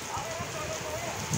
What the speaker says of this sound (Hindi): देखो कितनी तेज़ बारिश होने लगी है